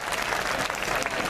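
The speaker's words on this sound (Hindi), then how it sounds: "हमारे सर के लिए जरा पहले तालियां बजाइए" An audience at a seminar hall claps in a dense, steady burst of applause that lasts the whole brief moment, heard at moderate distance.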